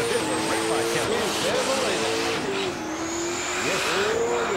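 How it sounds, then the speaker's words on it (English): A late model engine in a burnout car at the Summernats event revs hard and high, wailing and rising in repeated surges, loud and close with crowd noise and a commentator talking over it. "That's an angry little late model engine. That sounds really good."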